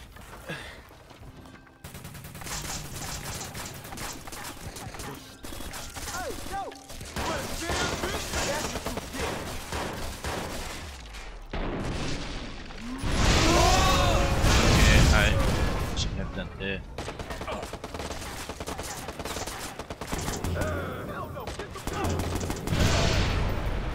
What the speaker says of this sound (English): Okay, there's a lot of explosions.